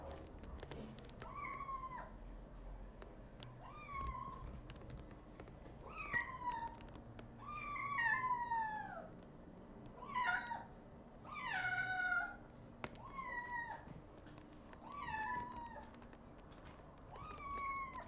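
A cat meows repeatedly, about a dozen drawn-out cries at a steady pace, some louder and more insistent, in a quiet room.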